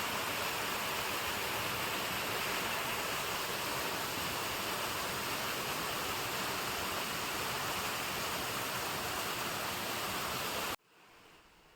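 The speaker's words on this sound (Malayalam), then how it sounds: "ഇവിടെ ഈ താഴെ കാണുന്ന വെള്ളച്ചാട്ടത്തിൽ നമുക്ക് അത്യാവശ്യം ഇറങ്ങി അതിൻ്റെ വെള്ളത്തിൻ്റെ തണുപ്പൊക്കെ ആസ്വദിക്കാൻ കഴിയുന്നൊരു പൊസിഷനാണ്." Mankayam waterfall pours steadily into a deep rock pool, a loud, close, continuous rushing roar with no voices, cutting off abruptly near the end.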